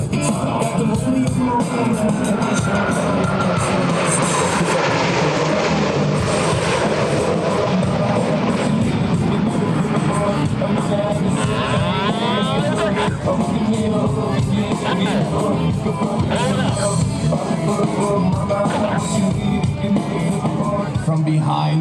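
US Navy Blue Angels jets, numbers 5 and 6, roar past the flight line at about 400 mph during an airshow, a loud, continuous engine rumble and whine over a crowd, with faint music and announcer talk underneath.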